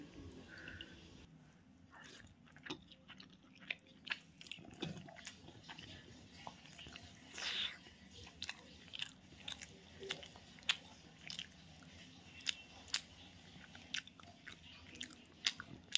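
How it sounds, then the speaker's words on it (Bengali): A person eats soup with momos in a series of quiet, close-up chewing, biting and slurping sounds, with soft, irregular clicks of mouth and utensil against a faint room background. "স্যুপটা খাই।"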